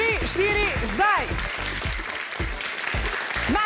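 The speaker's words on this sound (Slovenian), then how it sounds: "Naši navijači navijajo" Fans from two primary schools cheer and clap at a cup-stacking contest, with children's excited shouts and calls rising over continuous applause from a nearby crowd.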